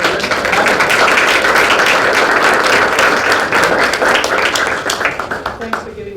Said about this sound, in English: Have another round of applause for Rick